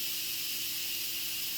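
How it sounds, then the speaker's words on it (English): Steam hisses from the release valve of a pressure cooker in a kitchen, a loud, continuous, bright rush with a faint steady tone beneath, unbroken throughout. "I'm going to release the pressure by opening that valve. That's going to let out any steam."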